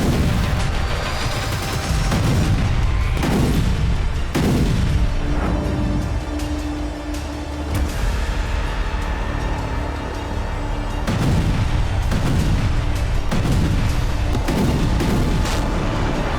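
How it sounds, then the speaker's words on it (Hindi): Heavy explosions and booms from strikes in Ukraine recur every second or two, thudding deep and loud through a continuous rumbling background, some distant and some closer. "जमीन धमाकों से दहलती रही।"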